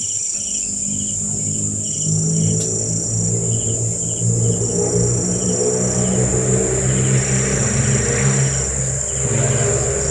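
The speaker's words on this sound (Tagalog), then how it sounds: "kaya naririnig natin yan, ang motor na maingay." Distant motorcycle engine droning on a mountaintop, a steady low hum sitting under loud, continuous insect and cricket chirring that dominates the scene.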